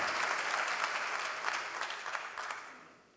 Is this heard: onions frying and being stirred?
no